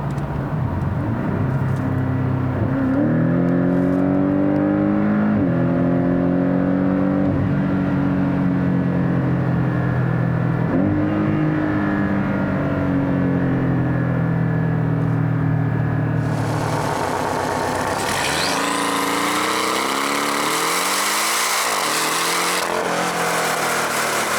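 A Porsche 718 Cayman GTS engine idles, then revs repeatedly in rising and falling sweeps before a harsher, brighter stretch of climbing revs near the end, loud and close with no talking.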